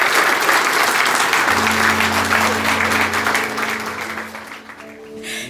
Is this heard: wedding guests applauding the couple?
yes